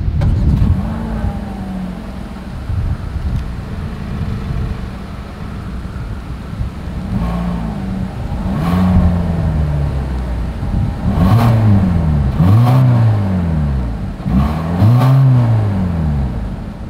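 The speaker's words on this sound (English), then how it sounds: "As always, here is that exhaust clip." Exhaust of a 2024 Hyundai Kona as the engine is revved repeatedly, a steady idle broken by several rising and falling rev blips that grow more frequent toward the end, heard close up with no talking.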